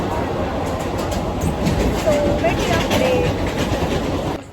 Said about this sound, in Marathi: आम्ही ट्रेन पकडली आणि आता बसलो